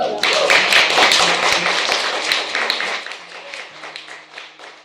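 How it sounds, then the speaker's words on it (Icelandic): An audience at a sing-along concert applauding in a dense, loud burst of clapping that gradually thins out and fades over a few seconds. "Við ætlum að klappa fyrir ykkur líka"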